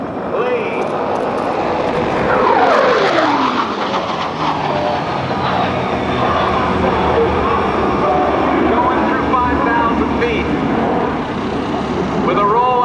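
An F/A-18C Hornet jet makes a high-speed pass just under the speed of sound at a naval air station airshow, a loud continuous roar with a sweeping pitch shift as it passes, under a commentator's voice.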